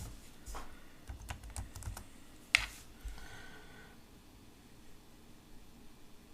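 Someone types on a computer keyboard in a quiet room, a few quick bursts of key clicks followed by a single sharper tap. The clicks sound faint and fairly close, with soft background hiss and no speech.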